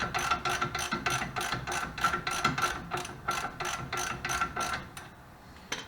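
A ratchet wrench undoes the 17mm shock absorber bolt on a Mazda MX5 front suspension, giving a fast run of crisp, evenly spaced clicks up close that stop near the end, with no talking.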